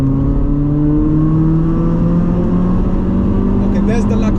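Toyota Celica VVTL-i T-Sport four-cylinder with front-wheel drive, revving after a downshift into third in a tunnel: a loud, steady engine drone with rising harmonics heard from inside the cabin throughout.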